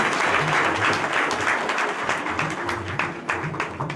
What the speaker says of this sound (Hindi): जोरदार तालियों से एक बार पुनः इनका स्वागत करें।